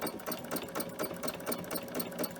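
Fast, rhythmic needle chatter of a sewing machine doing free motion quilting on a bag, close and steady throughout without pauses, fairly quiet overall.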